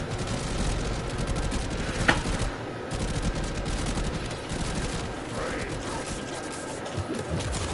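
Sustained automatic weapon fire in the sci-fi shooter Warframe, played as Protea, with steady rapid shots and a few sharper impact bursts layered through the barrage.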